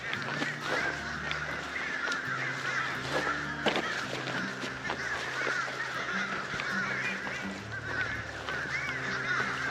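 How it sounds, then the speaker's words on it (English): A crowd of crows caws continuously in a forest, many harsh calls overlapping from near and far in a dense, unbroken chorus. "Listen to these crows."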